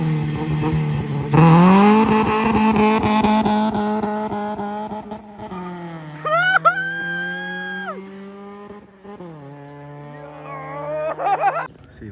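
A hatchback car with a newly fitted exhaust launches hard and revs up loudly through its gears, then settles to an idle and revs a few more times.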